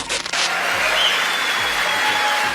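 Members of the US Congress giving Netanyahu a dense, continuous wash of applause that stays loud and even throughout, following a brief initial burst.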